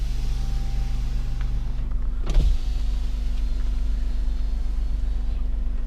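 A 2016 Smart Fortwo Cabrio power window runs briefly inside the cabin, a short motor whir with a thump as it stops, heard over a steady low hum of the idling car and air conditioning.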